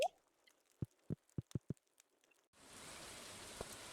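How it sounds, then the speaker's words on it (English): Rain in the farming video game Stardew Valley: after a few soft isolated drip-like taps, a steady hiss of falling rain sets in abruptly and continues evenly, quiet and with no talking. "it's a rainy day in game."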